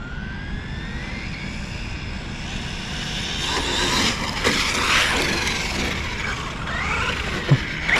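A brushless-converted Traxxas 4Tec RC car screams past at speed, its high motor whine rising and falling as it nears and pulls away, heard steadily over outdoor background noise.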